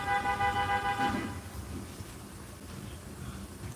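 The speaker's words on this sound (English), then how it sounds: "The hell are they honking at?" Car horns honk in a Los Angeles street, a loud sustained blare at the start that cuts off after about a second, leaving steady traffic noise.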